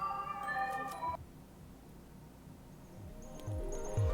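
Cat meowing in the video game Tokyo Dark, one short faint mew near the end, heard alongside game music and ambient tones.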